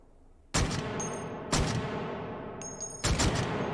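An H&K CAWS automatic shotgun fired in the VR game H3VR, three loud, close blasts about a second or more apart, each ringing out with a long decaying echo and metallic clinks between shots.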